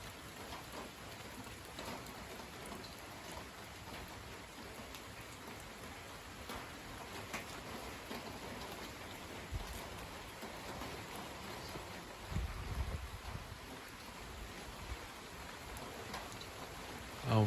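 Autumn rain shower from a squall line falling as a steady, even hiss of drops, with a few louder gusty thumps near the end and no voices.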